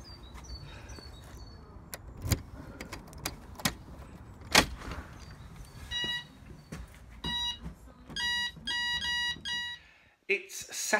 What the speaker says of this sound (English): I'll go and turn the alarm off